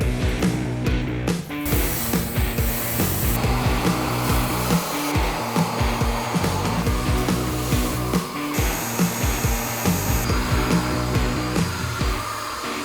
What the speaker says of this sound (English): I want to use the wet vacuum again and clean the seats